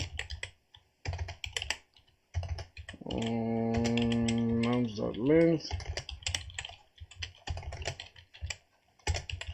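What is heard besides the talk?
typing on a computer keyboard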